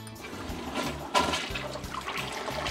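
Water runs steadily from a household tap for rinsing, a continuous close splashing flow with a brief louder gush partway through.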